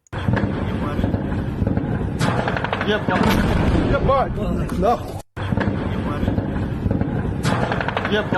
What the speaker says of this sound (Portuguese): Dá para ver os tiros de metralhadora, né?